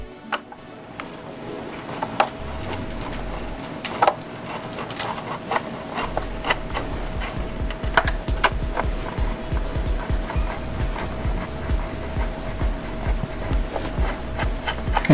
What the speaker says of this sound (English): we're going to remove the two motor screws.